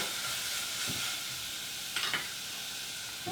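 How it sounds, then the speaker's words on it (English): Food sizzles steadily in a hot pan, a constant bright hiss with a few soft clinks and scrapes of stirring. "So if I see that sizzle."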